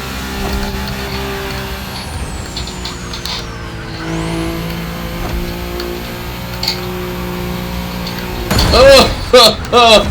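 The Pagani Imola's engine in a racing video game revs and shifts through sweeping pitch changes, with tire squeals and sharp bursts near the end, and a person talks over it.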